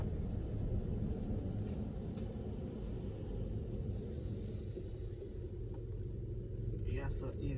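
Santa Cruz traffic jam after rain: a steady low rumble of idling and creeping vehicles, loud and continuous, with faint higher hiss and a brief brighter burst near the end.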